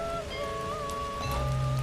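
Steady heavy rain falls as a dense hiss across the whole stretch, with tonal music tones drifting over it and a low rumble swelling near the end.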